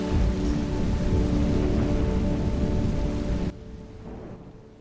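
Steady heavy rain with low rolling thunder, a dense continuous wash that drops suddenly to a quieter patter near the end, no speech.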